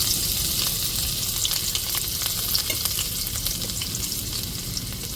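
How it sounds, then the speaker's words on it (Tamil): Onions frying in a tempering for fish curry, a dense steady sizzle with soft stirring crackles, close and loud throughout, no voices. "இப்போ நம்ம தாளிச்சிட்டு தான் நம்ம குழம்பையே கூட்ட போகிறோம் வெங்காயம் சேர்த்துக்கிடுவோம்"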